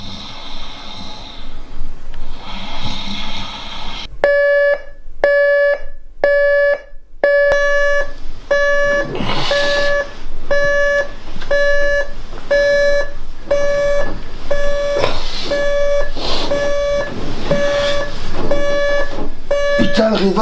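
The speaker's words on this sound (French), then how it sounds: "Tu éteins ce putain de réveil" An alarm clock beeps in a fast, insistent repeating pattern, loud and close, running on for many seconds while a person talks and shouts over it.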